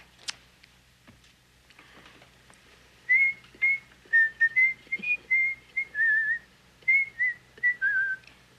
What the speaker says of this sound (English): It was somebody whistling it.